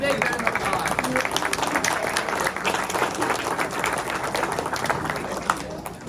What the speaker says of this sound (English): FFA members, give them a big round of applause